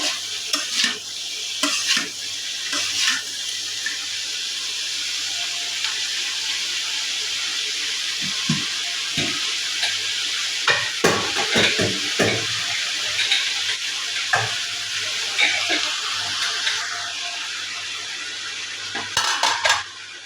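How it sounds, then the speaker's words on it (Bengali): A small fish curry of mola and chanda fish is stirred in a pan over a soft, constant sizzle, with bursts of scraping and clattering spoon-on-metal strokes, near and without talk. "তরকারিটা নেড়ে নেবো এটাকে ভালোভাবে নেড়ে নিয়ে"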